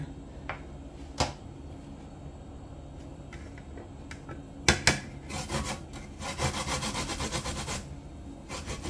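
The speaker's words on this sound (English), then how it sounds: "just like this we're gonna grate the ginger and our nutmeg" Ginger and nutmeg are grated by hand for Jamaican gizzada, heard as scattered scraping strokes at first, then a quick burst of close, rasping rubs in a rapid run toward the end.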